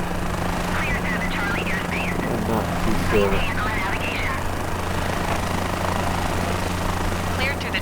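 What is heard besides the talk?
helicopter in flight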